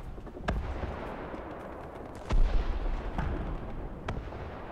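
Tank cannon fire in War Thunder, from an AML 90 armored car: several booming shots at uneven intervals over a dense, rumbling battle din, with one heavier close blast standing out.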